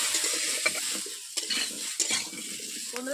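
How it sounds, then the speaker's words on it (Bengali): Pieces of kham alu (elephant foot yam) fry in a pan over low heat, giving a steady close sizzle broken by occasional scrapes and clinks of a stirring utensil. "আমি একটু খামালুগুলোকে ভেজে নিচ্ছি অল্প অল্প জ্বালানি দিয়ে"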